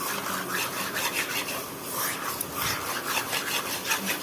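A spoon scrapes steadily around a pan as kalakand sweet mixture, with sugar and cardamom powder, is stirred without pause, a continuous close rasping, rubbing texture with no voices.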